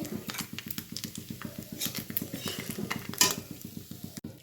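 Small fried fish are lifted from a pan of hot oil. A steady fast patter and bubbling of frying runs throughout, broken by occasional close scraping and clinks of a utensil.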